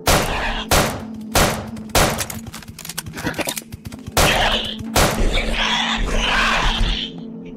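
Gunfire in the horror video game Death Park 2, a series of loud, sharp shots with echoing tails, several spaced single bangs early on and then heavier overlapping blasts, close and dominant.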